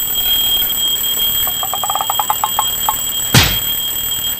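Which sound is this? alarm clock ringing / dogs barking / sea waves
alarm clock ringing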